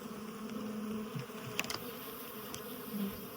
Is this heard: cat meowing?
no